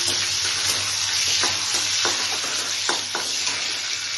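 Raisins frying in a pan for a paneer and pumpkin seed curry: a steady, close sizzle broken by several scraping stirs of the spoon.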